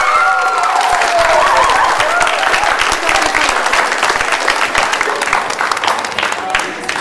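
An audience applauds loudly and continuously at a village-themed show as five participants are announced. Dense, sustained clapping fills the whole stretch, with faint voices mixed in.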